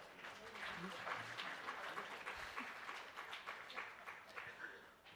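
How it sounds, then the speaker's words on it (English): A summit audience applauds for several seconds, a dense, steady patter of many hands heard from a distance, fairly quiet, with a faint voice murmuring beneath it. "Can we have a round of applause for that?"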